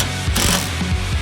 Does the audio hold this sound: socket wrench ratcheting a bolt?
yes